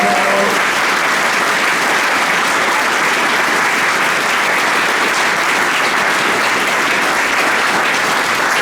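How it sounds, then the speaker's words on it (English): A large audience at an anniversary awards event gives loud, sustained applause for teams standing up, a dense continuous wash of clapping from start to finish. "Can we have all those teams stand up and take another round of applause?"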